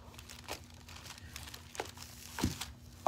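Crinkly peeling of a cast piece from a small muffin candy mold, a few soft crackling bursts building to a sharper pull near the end, close and quiet.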